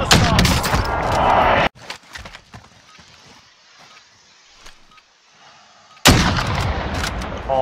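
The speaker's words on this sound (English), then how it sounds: "Be advised, friendly precision airstrike in." Precision airstrike explosions in Call of Duty Warzone arrive as two loud, roaring bursts, one at the start and one near the end. Quieter shots and faint rumbles fill the gap between them.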